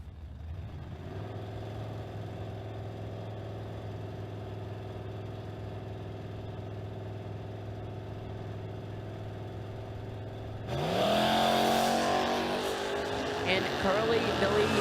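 A Toyota Supra drag car at a footbrake drag racing event idles with a steady low engine drone, then launches hard near the end into a sudden loud, rising roar.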